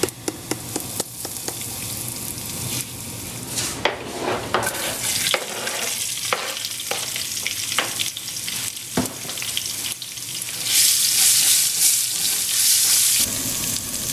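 Onions frying in a pan with mustard seed and asafoetida, a steady sizzle broken by irregular stirring scrapes and clinks, with a louder, brighter hiss near the end.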